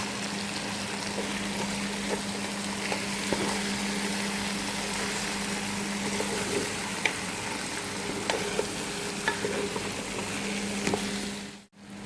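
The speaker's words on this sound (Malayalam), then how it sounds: "ഇനി ഇതിലേക്ക് ഒരു 1/4 ടീസ്പൂൺ മഞ്ഞൾ പൊടി ചേർത്ത് കൊടുക്കാം. ഇനി നല്ലോണം ഒന്ന് മിക്സ് ചെയ്യാം." Chicken masala with a quarter teaspoon of turmeric powder is stirred and mixed in a frying pan, making a continuous close sizzle with light scraping stir sounds throughout and no talking.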